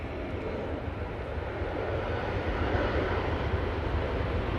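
A TUI Boeing 737-800 takes off at Manchester Airport, giving a steady, heavy jet roar with a deep rumble and a slight swell, heard from a distance with no talking.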